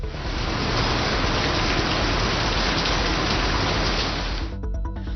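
Loud, steady monsoon rain in Wardha, Vidarbha, hisses and patters close by for several seconds, then turns choppy and breaks up in the last moment.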